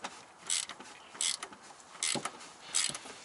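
A wrench breaking loose the oil filter on a Shelby GT350, heard as four short, close ratcheting clicks and creaks in separate bursts with quiet between them.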